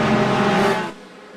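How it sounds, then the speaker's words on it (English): Two McLaren race cars in Gran Turismo 4 drag down a straight, their engines roaring loud and steady before the sound cuts off abruptly to a quieter background. "It's going to be a drag race between the 2 McLarens."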